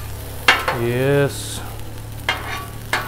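Shrimp and broccoli stir-frying on a 36-inch Blackstone griddle: a steady close sizzle with occasional sharp spatula scrapes and clinks, and someone speaking briefly over it.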